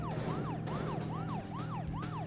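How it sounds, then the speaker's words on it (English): Police car siren in the video game Deadly Premonition wails in a steady rising-and-falling cycle, about five sweeps in quick succession, loud and continuous over a low engine drone with no talk. "Put on the siren, York."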